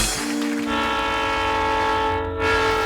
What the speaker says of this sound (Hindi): अरे बेटी, वो ट्रेन की आवाज थी।